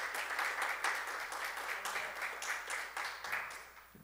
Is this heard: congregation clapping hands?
yes